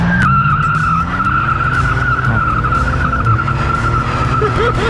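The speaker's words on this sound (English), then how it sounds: "We have proper turbo noises on this thing." Turbocharged engine of a Buick Grand National from the 1980s pulls hard in first gear with a high turbo whine and a constant loud roar heard from inside the car, with some tire noise.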